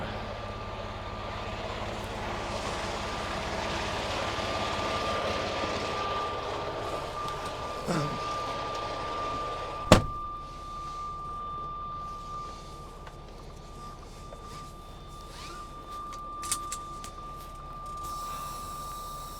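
A truck tractor backs up slowly to hook onto a trailer, its engine a faint, steady low drone with a couple of short clanks and knocks along the way.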